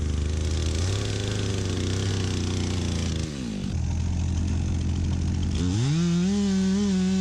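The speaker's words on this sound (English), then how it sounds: "now I'm going to cut a shallow reference line all the way around the tree so I know where I want to make my felling cut" A chainsaw cuts a shallow reference line around a standing dead pine tree, felled for timber frame lumber, its engine droning loud and close with steady revving and pitch shifts as the cut goes on.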